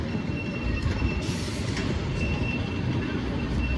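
A roller coaster train runs along its track at Six Flags St. Louis, a steady loud rumbling roar with faint metallic squeals throughout, heard close and continuous.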